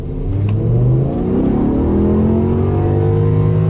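A car with an SMG clutchless gearbox accelerates hard, the loud engine tone climbing steadily in pitch, then dropping briefly at a gear change before rising again, close and continuous.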